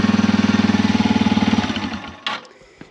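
A Yamaha TW200 motorcycle engine with its stock exhaust idles in a loud, even, rapid thumping pulse that fades out after a second and a half, followed by a brief clunk and a faint click.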